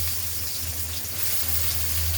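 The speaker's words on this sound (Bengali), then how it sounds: "পেঁয়াজটা একটু ভাজা ভাজা করে নেই" Chopped onions with salt and onion paste fry in a pan with a steady, close, dense sizzle that stays even throughout, no voices present.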